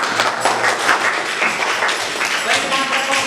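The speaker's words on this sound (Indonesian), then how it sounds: "Tepuk tangan." Classroom audience applause after a student's presentation on maintaining a motorcycle starter motor, a dense, steady patter of many hands clapping close by for a few seconds.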